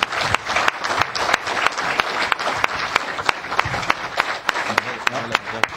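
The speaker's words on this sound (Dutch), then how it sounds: "En aan het publiek vraag ik een applaus voor Bas Sibben." An audience at a Dutch sports supporters' evening claps steadily, with crisp individual hand claps standing out from the crowd's continuous applause at a moderate level.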